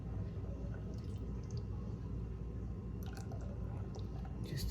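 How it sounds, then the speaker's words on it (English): Bluish green resin poured from a height for a tabletop mountain piece, a thick, soft, continuous squishy patter with faint wet drips over a low steady rumble. "I'm going to pour from a high height"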